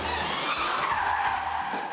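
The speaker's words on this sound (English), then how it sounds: "driving a car around on a street circuit" A Formula E race car skids on a street circuit, its tyres giving a loud, sustained screech with the electric motor whining high above it.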